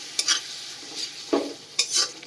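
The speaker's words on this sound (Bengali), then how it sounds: "আর সমস্ত মশলাকে আবারও আমি খুব ভালোভাবে কষিয়ে নেব" Spices for a katla fish curry being stirred and scraped in a pan after a splash of warm water, with a few short scraping strokes over a steady low sizzle, close and clear, no talking.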